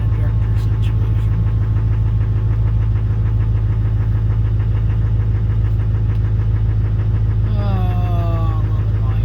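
A swapped 2005 LBZ Duramax diesel engine in a truck running rough just after a cold start, a loud, steady low rumble with a rhythmic knock, close by, with a voice talking briefly near the end.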